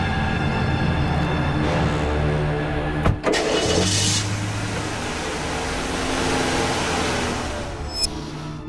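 A car engine turns over and settles into a steady idle, with a brief mechanical clunk partway through, then keeps humming loudly and evenly throughout as the car moves off.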